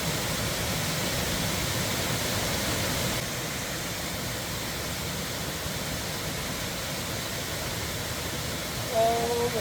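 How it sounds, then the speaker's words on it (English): A waterfall in the Brecon Beacons gives a steady broadband rush of falling water, constant and fairly loud, with a brief faint sound near the end. "Second waterfall."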